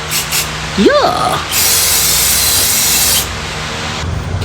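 Grill paint is sprayed onto a homemade fire pit, a steady loud aerosol hiss lasting about two seconds after a brief voice, then stopping.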